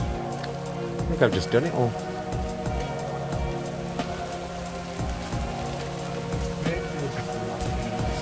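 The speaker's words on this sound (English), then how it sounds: "it is chucking it down with rain" Heavy rain pours steadily outdoors at an abandoned urban site, a continuous hiss under someone speaking briefly, with a few louder patters and knocks breaking through near the start.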